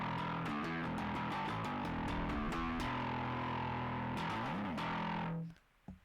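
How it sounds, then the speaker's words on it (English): A bass guitar played through a distortion pedal alone gives a loud, gritty, buzzing tone with repeated plucked notes and sustained chords for several seconds, then cuts off abruptly into near silence. "So if we hear it just the distortion pedal by itself,"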